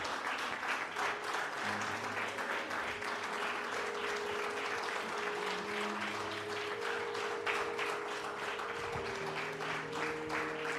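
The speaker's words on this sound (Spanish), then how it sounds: "Aplauso al Rey de Reyes" A church congregation applauds in worship, sustained dense clapping over about ten seconds with sustained tones of music or voices running underneath.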